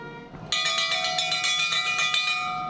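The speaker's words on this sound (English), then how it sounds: "A fire bell was rung" A fire bell rung once at Sha Tin Fire Station in Hong Kong during a funeral procession, sounding as a sudden bright metallic strike with a long ringing decay that shimmers on alone for over two seconds.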